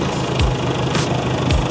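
A Toyota Supra engine idles steadily at close range, a low continuous rumble with faint periodic clicks and knocks over it.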